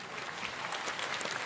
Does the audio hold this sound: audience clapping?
yes